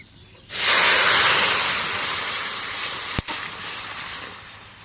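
Dal poured into hot oil with fried cumin and garlic erupts in a sudden loud hiss that holds steady, then eases while sizzling continues, with a single sharp clack partway through.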